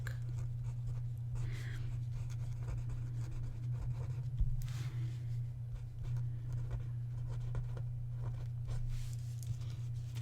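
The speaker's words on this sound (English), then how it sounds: "I'm going to write on the back." A pen scratches steadily across the back of a paper Zentangle tile, soft continuous scribbling strokes close up over a constant low electrical hum, with no talking.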